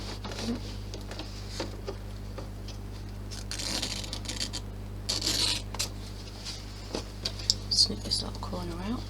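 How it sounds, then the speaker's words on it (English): Scissors snip the corners off a sewn cloth clutch bag, making a few quick, close clicks spread out over a steady low background hum. "Snip this little corner out."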